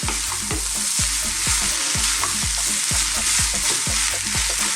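Rice for chicken fried rice fries in a pan with bay leaves while a utensil stirs it in regular scraping strokes, about two per second, over a loud continuous sizzle.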